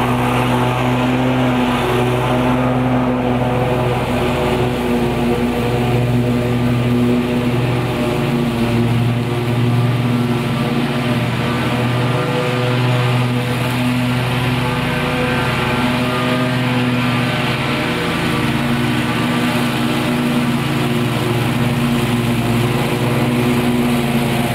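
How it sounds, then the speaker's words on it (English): Gravely Pro-Stance 36-inch commercial stand-on lawn mower cutting a residential property, its engine droning loudly and continuously at close range with steady blade whir throughout. "So let's mow this property."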